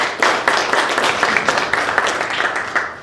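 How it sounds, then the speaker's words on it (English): Applause at a golf matchplay press conference: a small audience claps in a steady patter of sharp, close handclaps for the full stretch, fairly loud and without speech. "Let's give them a round of applause."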